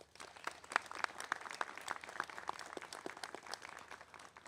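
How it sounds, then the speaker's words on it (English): An audience applauds steadily throughout at a press conference, with dense, even clapping from a moderate-sized crowd heard at some distance. "Let's give them a round of applause."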